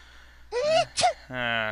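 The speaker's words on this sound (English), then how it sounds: "guy's gonna be sneezing for a while" A character in the King's Quest 2 remake video game sneezes, with a voiced, rising intake, a short sharp burst and a drawn-out voiced tail, all close and clear over a quiet background.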